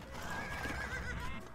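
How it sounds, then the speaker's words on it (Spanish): White horses neigh in the Age of Empires II: Dynasties of India campaign: a single clear, high whinny rings out over faint hoof clip-clops, with no talking. "10 espléndidos caballos blancos, tal y como acordamos."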